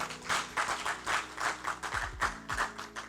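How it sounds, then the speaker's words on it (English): Conference audience at a safe motherhood event clapping in a room, a short burst of many hands at a fairly even rhythm, moderately loud and without speech over it. "I can see only this side is clapping"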